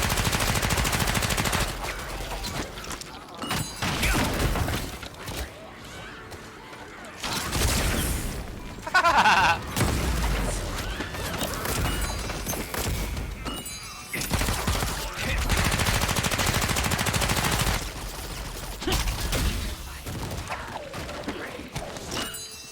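Stun gun firing in the Lost Ark video game, heard as a long run of dense, loud bursts and crackling volleys with brief lulls between them, busy and close throughout.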